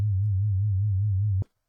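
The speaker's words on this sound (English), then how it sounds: "the frequency is now being modulated with another sine wave, 5 times per second" A low synthesized sine-wave tone, frequency-modulated by a second sine wave five times per second, gives a steady wobbling hum that holds alone for about a second and a half before cutting off abruptly.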